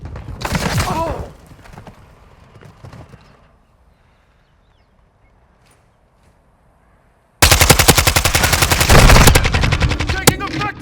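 Call of Duty Modern Warfare II multiplayer firefight: a loud burst of automatic rifle fire, a quiet lull, then a long sustained stream of rapid close gunshots, with brief in-game voice callouts.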